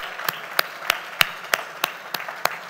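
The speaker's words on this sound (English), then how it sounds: "Clap for them." Audience clapping at a tax and business compliance seminar, about nine sharp, evenly spaced claps ringing out over a steady room hum, fairly close and moderately loud.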